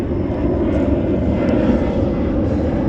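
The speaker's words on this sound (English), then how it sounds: "Got airplanes going overhead all over the place." An airplane drones steadily overhead along historic Route 66, a loud, continuous low engine rumble that holds without a break, with no talking.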